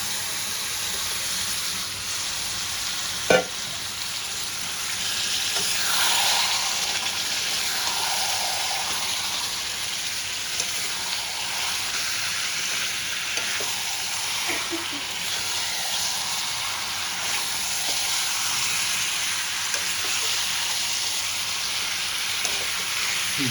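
Fried chicken sizzles steadily in a hot pan for a kiss-miss chicken recipe, giving a continuous hiss with a brief sharp click near the start and soft bubbling throughout.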